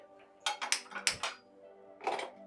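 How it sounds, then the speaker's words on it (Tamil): Metal cookware knocks and clinks on a stovetop as a pan is set down, a quick cluster of sharp clanks followed by one more after a pause, close and clear in a quiet kitchen. "ஸ்டவ் ஆன் பண்ணிக்கோங்க ஒரு பேன் அடுப்பில் வச்சுட்டு"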